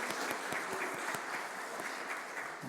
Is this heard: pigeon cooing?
no